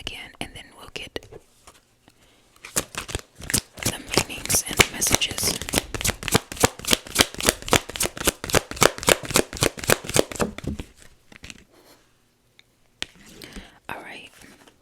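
A rapid run of crisp riffle-shuffling tarot cards, dozens of quick papery snaps in a steady rhythm, close by, with soft whispered speech before and after.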